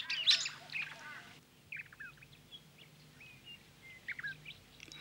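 Plains turkey (Australian bustard) chick calling on open desert plains in Australia: a few short, thin high chirps, faint and spaced out against quiet background ambience.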